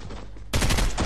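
Fortnite video game gunfire, a burst of rapid shots cutting in abruptly after a quieter half second and continuing loudly to the end.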